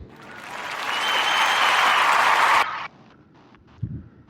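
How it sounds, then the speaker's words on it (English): Warm applause from a live audience for a brand during a podcast event, building to a sustained loud wash of clapping before cutting off abruptly, followed by faint scattered sounds. "And a warm round of applause for"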